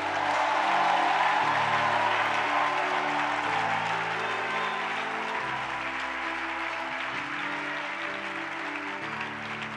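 Church congregation applauding and cheering for Jesus, a dense, steady wash of clapping that stays loud and full throughout, with organ or keyboard chords sustained underneath.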